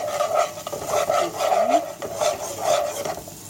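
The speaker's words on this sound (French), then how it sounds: "Et la petite cuillère pour mélanger." Small spoon stirring and scraping inside a pot of simmering food, a steady rasping rub that repeats in strokes, close and moderately loud, with no talk.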